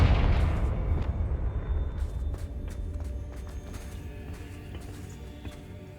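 Confringo fire spell in Hogwarts Legacy goes off as a loud, deep blast at the start, then a long rumbling decay with scattered crackles fading over several seconds.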